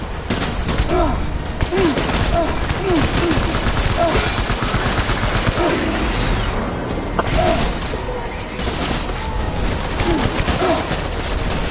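Sustained gunfire during a battle in the video game Death Stranding, loud bursts of shots packed densely over a constant roar of battle noise with occasional brief lulls.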